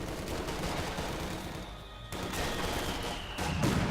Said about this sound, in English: Grenades going off there, running straight into it.